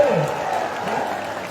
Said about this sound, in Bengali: কি চুপ তালি দিলেন না কেন?